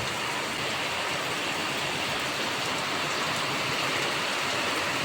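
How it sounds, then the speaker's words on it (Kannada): Dense, unbroken hiss of heavy rain pouring down steadily, loud and close, with no other sounds. "ಈಗ ಶುರುವಾಗಿರೋ ಮಳೆ ನೋಡಿದ್ರೆ ಅಪ್ಪ ಈ ಮಳೆ ಯಾವಾಗ ನಿಲ್ಲುತ್ತೋ ಅನ್ಬೇಕು"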